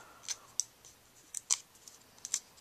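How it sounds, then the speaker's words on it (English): Paper craft adhesive pieces peeled off one by one, giving faint, scattered crackly clicks and light tearing ticks at close range in a quiet room. "So I'm going to peel these off."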